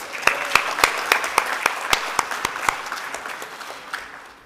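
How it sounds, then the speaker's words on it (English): A summit audience gives itself a round of applause at the start of a morning session: a moderate, fairly steady patter of individual claps that thins out and fades toward the end. "let's give ourselves a round of applause"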